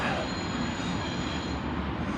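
A train rolls past close by outdoors with a steady, loud rumble and faint wheel squeal, a continuous sound across the whole moment, with no talking.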